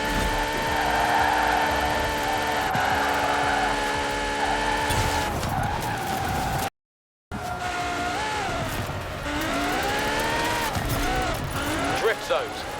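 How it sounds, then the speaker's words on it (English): Forza Horizon car drifting through a drift zone with the handbrake held, engine droning loud and steady with rising and falling pitch, a brief dropout midway, while a person talks over it. "Hook it in, flick the back end out, ride the handbrake all the way through the flags."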